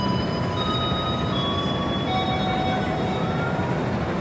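The KA Pangandaran panoramic passenger train rolls along in a dense, continuous rumble, with thin wheel squeals drifting in and out over the roar and no voices.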